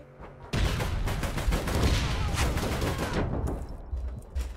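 Sustained, loud gunfire from a firefight in the game APB: Reloaded, a dense rattle of rapid shots that starts abruptly and runs for several seconds before cutting off.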